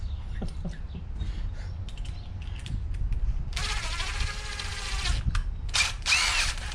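A power tool whirs in short bursts while cleaning small block Chevy head bolts, starting with a sustained high buzz midway and then a couple of brief spins, over a low background rumble.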